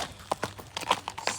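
Horse hooves clip-clop in a quick, steady rhythm of close, crisp strikes over a short stretch, with no voices.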